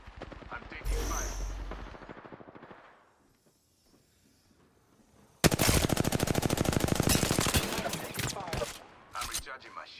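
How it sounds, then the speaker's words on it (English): Video game gunfire hits the player in two rapid automatic bursts, with a quiet gap of several seconds between them. The rattling is loud and close, and voices talk through the shooting. "I'm taking fire."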